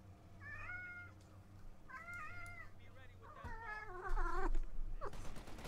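A pet cat named Basil meows repeatedly and close to the microphone, several drawn-out, rising cries in a row over a low steady hum, getting louder toward the end, with no talking.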